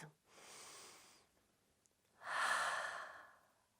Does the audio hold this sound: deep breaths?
yes